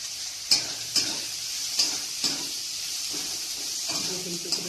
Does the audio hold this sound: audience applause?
no